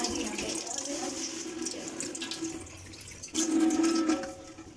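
Running water pours steadily from a tap as new kitchen items are washed under it in a newly moved-into home, a continuous splashing wash that swells louder near the end, with people talking over it.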